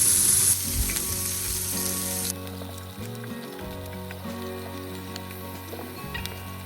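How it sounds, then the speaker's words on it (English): Beef stew meat browns in an Instant Pot with a steady, close sizzle and occasional stirring scrapes, and the hiss turns slightly quieter partway through. "beef stew meat to the Instapot, and then we're going to brown it until it's all brown by stirring it every now and then"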